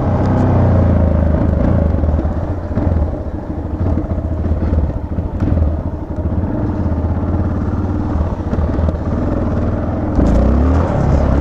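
A Yamaha XT660 motorcycle engine rumbles loudly and steadily for the whole stretch, a close, continuous throaty drone that swells briefly near the end.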